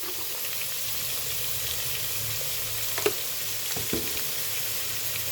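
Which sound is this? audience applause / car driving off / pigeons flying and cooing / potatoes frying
potatoes frying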